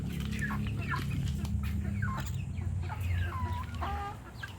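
A group of hens in a coop clucks close by, with overlapping short repeated clucks and calls over a steady background hum.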